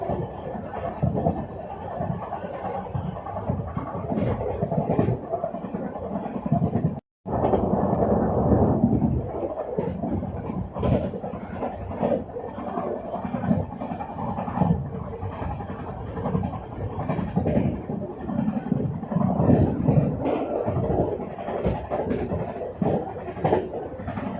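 An Amrit Bharat Express passenger train rushes at speed through a railway station without stopping, giving a loud, continuous rumble and rattle of wheels and carriages that lasts throughout, with one brief dropout.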